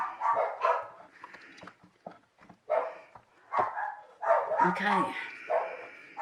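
Dogs bark loudly and repeatedly in irregular bursts close by, some barks overlapping with whines and yips, and a person speaks briefly between them.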